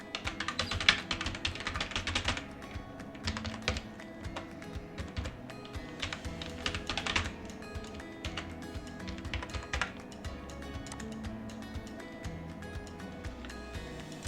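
Steady, rapid typing on a computer keyboard while entering an SBI login ID and password, with clustered bursts of light clicking keystrokes that continue throughout, close and moderately quiet.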